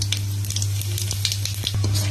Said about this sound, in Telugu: ఇప్పుడు ఇందులోకి తాలింపు గింజలు వేసుకుందాం